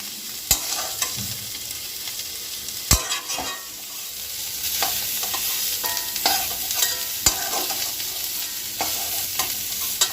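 Food fries in a pan with a steady crackling sizzle, broken by sharp clacks and scrapes of a spatula stirring and lifting pieces out.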